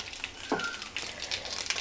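Curry leaves and urad dal frying in hot oil give a steady crackling sizzle, with a brief louder burst of spattering, heard close and alone.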